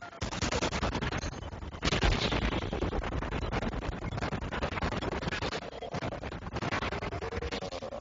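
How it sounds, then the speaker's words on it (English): Nearly constant gunfire from the Max Payne 2 video game, dense, loud bursts of shots and blasts layered without pause, with a heavier impact early on. "Where are these shots coming from?"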